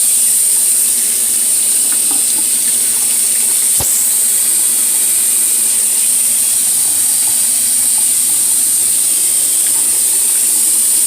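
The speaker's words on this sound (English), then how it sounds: "I'm going to wash my hand." Hands being washed under running water with soap at a kitchen sink, a loud, steady close hiss of tap water that runs the whole time, with one brief knock partway through.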